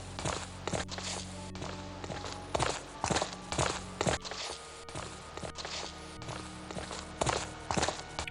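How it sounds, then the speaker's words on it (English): Party members' footsteps march through stone halls in the 1995 dungeon game Stonekeep, a steady run of thudding steps over a low humming background, with no talk. "I do like that you hear your party members' footsteps as you're marching along the halls of Stonekeep."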